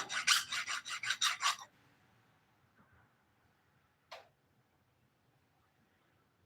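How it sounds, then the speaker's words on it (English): A hand file rasps across a mushroomed bolt head in about six quick, close, rhythmic strokes. A brief scrape follows after a quiet pause. "I think I can file that out."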